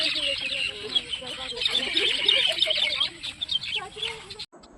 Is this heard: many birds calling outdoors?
yes